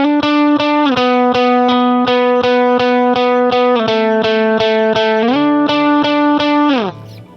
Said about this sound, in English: you can flip it to the bridge pickup to kind of get a little bigger sound